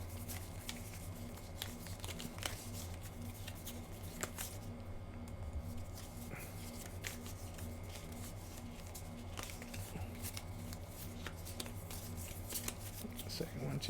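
A deck of cards from the Legendary Encounters Alien and Predator deck-building game is shuffled in soft, rapid riffling bursts, quiet and close, with a faint steady hum behind and a voice talking over it.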